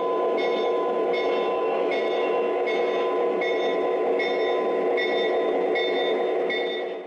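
A small Atlas Premier GE 44-tonner model locomotive runs steadily along a track, with a continuous mechanical hum and evenly spaced clicks as it rolls past.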